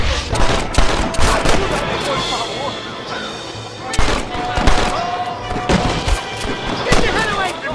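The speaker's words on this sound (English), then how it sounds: "They're shooting down on us!" Enemies atop a cliff fire down in Red Dead Redemption, a loud barrage of repeated gunshots cracking in irregular bursts, with shouted voices among the shots.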